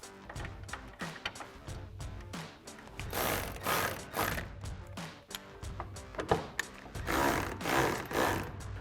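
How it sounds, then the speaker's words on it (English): A ratchet with an 8mm socket tightens the tail light bolts during an LED tail light install on a 2015-2020 Ford F-150. Irregular bursts of close clicking and mechanical rattling come and go. "we're going to take our 8mm socket, our ratchet, and we're going to tighten down these 2 bolts here and here."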